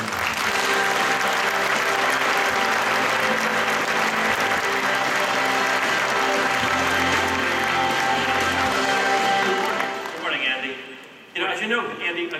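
A large keynote audience at the Intel Developer Forum in San Francisco gives loud, dense, sustained applause welcoming Andy Rubin, Google's Senior Vice President of Mobile, to the stage, then it thins out and tapers near the end.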